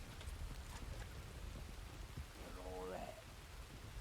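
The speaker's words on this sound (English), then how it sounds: "hard to hear with the rain" Steady rain falling in the RedM western role-play game, a dense hiss that runs the whole time with a voice speaking over it, followed by a brief rising tonal sound near the end.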